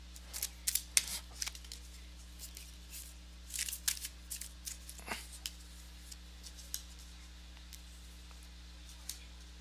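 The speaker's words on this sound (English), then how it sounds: "let me go ahead and give these cards a shuffle" Quiet riffling and snapping of a deck of tarot cards being shuffled, in irregular bursts of crisp flicks with pauses between, close by and with no talking.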